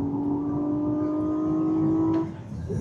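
A Hyundai IONIQ 6 N electric car accelerating hard holds a steady, rising whine that builds for a couple of seconds, then drops off suddenly as the power cuts.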